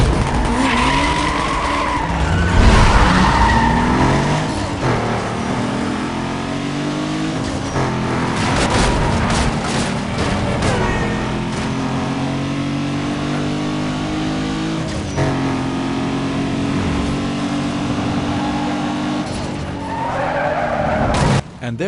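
In Need for Speed Most Wanted, a car skids and drifts with long screeching tire squeal over a revving engine, loud and close, sliding on for over twenty seconds with shifting pitch and a few sharp bumps.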